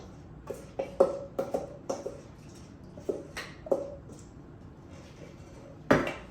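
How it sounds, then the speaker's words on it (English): Cooked pork being mixed into rehydrated dog food meal mix, a series of close, soft wet squishes and light clinks of a utensil against a bowl at an irregular pace. "So now that our pork is done and our meal mix is completely rehydrated, I'm just gonna mix in the two."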